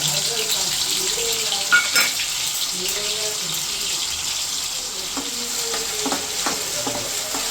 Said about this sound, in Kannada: ಚೆನ್ನಾಗಿ ವಾಸನೆ ಹೋಗೋ ಥರ ಫ್ರೈ ಮಾಡ್ಕೊಳ್ಳಿ